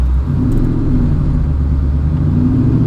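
A Mustang GT engine running on a 150-shot nitrous hit, a loud, deep, sustained rumble with a steady low drone close by, no voices.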